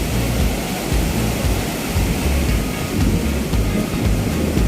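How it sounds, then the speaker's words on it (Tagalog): Big ocean waves roll in at a surf beach in Baler, Aurora, giving a dense, steady roar of breaking surf close by with no voices. "Ang lalaki ng alon."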